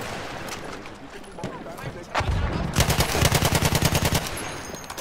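Video game gunfire with sniper shots: a heavy single report, then a fast, loud burst of automatic fire that rattles on for about two seconds, with steady background game noise throughout.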